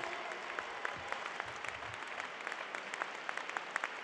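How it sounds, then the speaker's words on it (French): Audience applause for a lineup of speakers at a large centrist political rally, a steady dense patter of many hands clapping, moderately distant and fairly quiet, with no talk over it. "je vous propose une salve d'applaudissements pour l'ensemble de nos orateurs"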